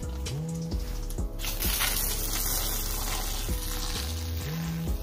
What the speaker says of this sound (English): nothing's coming out except for the water that was already inside the water hose